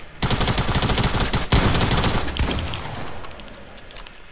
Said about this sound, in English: He shot his shotgun.